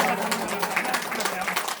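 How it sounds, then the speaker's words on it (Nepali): Audience clapping at an annual kirtan group honors program at a temple, a dense steady patter of many hands lasting the whole moment, with a voice speaking over it. "तालीले सम्मान गरौँ, जोरदार ताली बजाऊ।"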